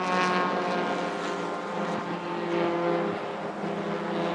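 Race cars at the Sepang 1000km endurance race, a big field including the MT2V class, droning past in a steady, loud blend of engine notes with no gaps, as if several cars run close together.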